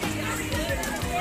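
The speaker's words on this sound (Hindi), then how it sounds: "बहुत ज़्यादा भीड़ होती है यहाँ" Dense, steady crowd of Shiva devotees packs Khereshwar temple in Aligarh during a fair, a continuous murmur of many overlapping voices with no single speaker standing out.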